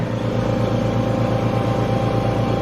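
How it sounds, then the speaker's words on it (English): Air compressor running steadily in a home basement to make liquid nitrogen, a constant loud mechanical hum with a pulsing low drone and no pauses. "We'll start the compressor. The compressor's on."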